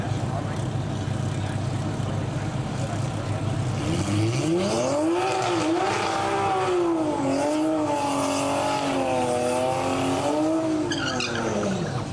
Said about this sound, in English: So here we go, Zach Kitzmiller out of Chicago, 2021 Supra, and John Brower out of Rockledge, Florida, 2021 Supra